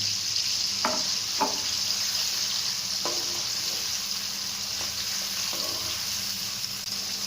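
Ginger garlic paste sizzles with softened tomatoes and chili in a pan for chicken curry, a steady close frying hiss with a few soft stirring scrapes, no voices.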